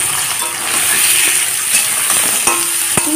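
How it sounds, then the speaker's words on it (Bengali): Onions fry in white oil in a wok over a high flame, a loud continuous sizzle close up with a few sharp clinks of a spatula against the metal toward the end. "কড়াইতে দিয়ে দিয়েছি সাদা তেল। পেঁয়াজগুলোকে ভেজে নেব।"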